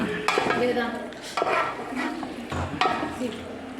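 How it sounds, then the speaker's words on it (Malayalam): A spoon stirs chicken curry in a pot, giving close scraping and clinking strokes in a few uneven bursts against a low kitchen background. "ഇത് ഇനി നന്നായിട്ട് ഇളക്കി കൊടുക്കുക നല്ലോണം മിക്സ് ചെയ്ത്"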